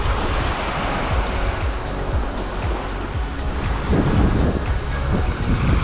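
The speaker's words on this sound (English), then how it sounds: "this is K Bay Beach" Surf rolling onto K Bay Beach on the west coast of Koh Chang, Thailand, a steady close wash of breaking waves with wind buffeting the microphone, swelling a little louder near the end, no voices.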